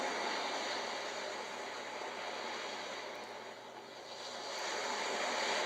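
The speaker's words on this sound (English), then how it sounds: "Kind of like the crashing waves." Ocean setting on a HoMedics white noise sound machine, a continuous roaring wash of crashing waves that swells, dips slightly toward the middle and builds again, loud and steady with no voices.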